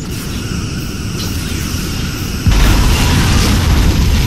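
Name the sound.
Borg cube exploding in a Star Trek video game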